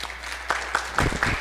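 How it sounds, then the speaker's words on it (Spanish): An audience at a national book fair at a university in San Luis Potosí breaks into applause, starting softly and swelling into a fuller burst of clapping near the end of the short stretch. "Un aplauso, por favor."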